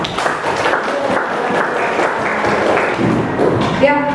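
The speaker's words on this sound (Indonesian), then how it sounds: "Oke, tepuk tangan." A classroom group claps hands in a dense burst of applause lasting a few seconds, with voices mixed in.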